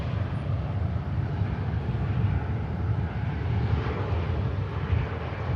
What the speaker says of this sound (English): the second of the ATRs operated by Emerald Airlines is on the taxi out, the flight to Belfast